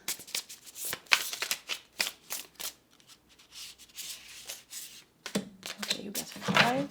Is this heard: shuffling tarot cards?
yes